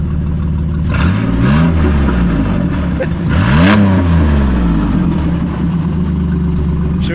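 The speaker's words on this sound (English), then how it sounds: "Give it some revs." A Dodge Dakota's engine, fitted with a ram air intake, is revved from idle in two sharp, loud bursts that climb and fall back to a steady idle, close by with no talking.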